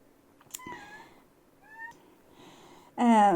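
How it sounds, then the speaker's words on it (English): Indoor cat chirping and chattering in short bursts while hunting flies, a few brief clicky calls followed by a louder, harsher meow at the end, otherwise quiet room. "My cat is hunting flies."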